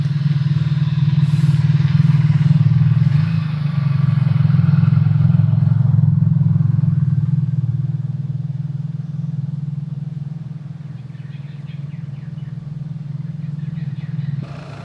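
A motorbike cruises along a foggy road on the Australian coast, its steady engine drone loud and close at first, then easing off and quieter, with a short bit of talk near the end.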